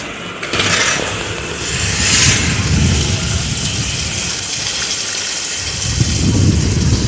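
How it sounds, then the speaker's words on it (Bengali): Steady, heavy rain from Cyclone Remal roars continuously, a dense wash of noise with occasional louder surges, and no talking. "কত জোরে বৃষ্টি পড়ছে"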